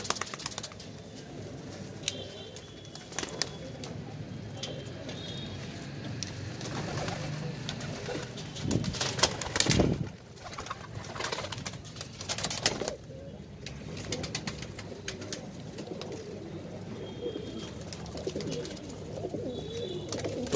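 Steady soft cooing of fantail pigeons, about fifteen birds, repeated throughout over a constant background hum, with occasional rustling and a brief louder flutter midway.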